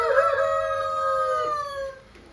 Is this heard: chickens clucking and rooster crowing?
yes